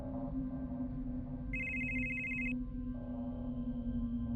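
A phone rings for about a second with a bright electronic trill, heard once over a low, steady ambient drone.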